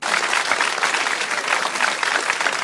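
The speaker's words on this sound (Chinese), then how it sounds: "掌声鼓励" A live Lunar New Year stand-up comedy crowd claps steadily, a dense even patter of applause that holds at full strength for the whole stretch without pause.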